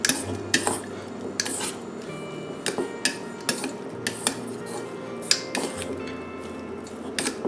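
Enchilada filling of cilantro and three-quarters of a cup of cheese is mixed in a bowl, the utensil clinking and scraping against the sides in irregular close taps over a steady low background hum.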